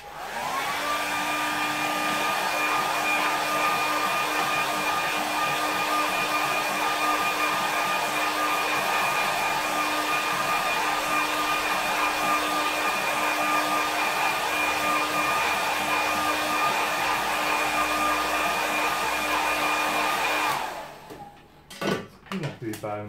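Hair dryer drying a watercolour painting of Snowdonia, blowing in a steady loud whine for about twenty seconds before switching off, followed by a few clattering handling sounds.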